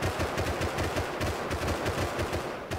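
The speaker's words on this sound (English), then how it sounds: "Alright, we can start shooting them now." Rapid automatic gunfire in Rust, a steady stream of sharp shots at an even fast rhythm, loud and close throughout.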